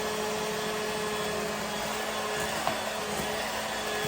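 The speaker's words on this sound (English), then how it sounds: "You hear the mixer slowing down because the mixer is getting thicker and thicker." An electric mixer beats egg whites with sugar, giving a steady, continuous motor whir at constant level close by throughout, with no talking.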